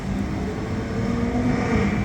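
A Ferrari 812 supercar with a non-stock exhaust drives past, giving a steady, moderately loud engine drone that rises slightly toward the end. No voices are heard.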